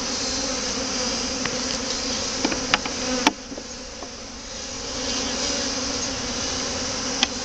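Honey bees swarm busily around an open hive during a queen check, a dense, continuous buzzing drone with a few sharp clicks and taps, no talk.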